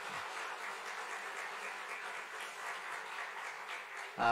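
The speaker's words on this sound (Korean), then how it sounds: "우리 다시 한번 박수 한번, 감사의 박수 한번 드리도록 하겠습니다." Applause from a church congregation thanking missionaries during a Korean worship service, a steady, soft wash of clapping held at an even level throughout, heard from a distance in a large room.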